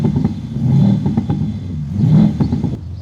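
Mercedes CLA fitted with a THOR active sound system imitating a C63 AMG engine, with pops and bangs: a loud, close synthetic engine note that swells twice in revving surges over a steady rumble, no talk.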